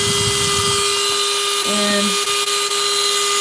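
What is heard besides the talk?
drill drilling holes through crinoid fossils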